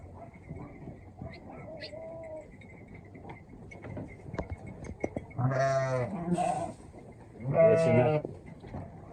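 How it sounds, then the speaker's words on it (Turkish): Lambs bleat in loud, wavering bursts, two prominent calls close by near the end, with quieter farmyard rustling and faint murmurs before them, on a livestock farm in Bulgaria. "Kuzular burada arkadaşlar."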